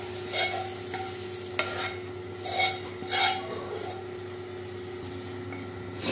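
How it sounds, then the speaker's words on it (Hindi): Roasted spices scraped from a pan into a bowl, several spoon scrapes and metal clinks over a faint background hum, close and unaccompanied by voices. "मसालों को इस कटोरी में निकालती हूँ"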